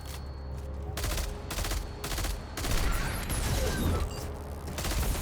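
Automatic turrets in the Destiny 2 Seraph Shield mission fire bursts of rapid gunfire, loud and fairly close, in repeated clusters of shots with short pauses between, amid game ambience and no talk.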